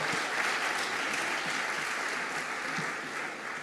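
An audience at a public talk on the economy and climate applauds two guests of honour, a loud, dense, continuous round of clapping that tapers slightly toward the end.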